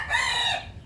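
A single brief rooster crow rises from a gamefowl battery cage, close and clear, trailing off within a second.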